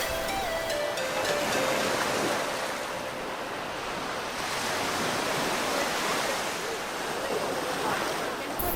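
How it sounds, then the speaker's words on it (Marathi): Gulf of Mexico surf washing onto the beach at Panama City, a continuous loud roar of breaking waves with steady wash and some wind rumble, no voices. "आता थोडा वेळ आम्ही इथे समुद्राच्या लाटांचा आनंद घेणार आहे"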